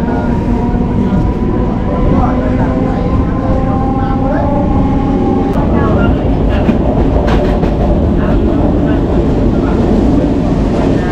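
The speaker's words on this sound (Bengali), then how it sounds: "এই মুহূর্তে আমাদের ট্রেন ছেড়ে যাচ্ছে হলো ভাইনা স্টেশন।" A local train on the Gede–Majerhat line pulls out of Bhaina station with a loud, steady, close rumble and rattling carriage clatter that runs the whole time and swells slightly partway through.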